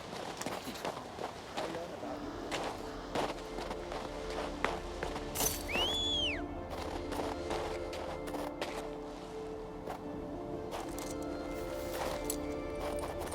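Rhythmic horse hooves clip-clop steadily in the video game King's Bounty II, with a brief whinny partway through and a constant background hum and clatter.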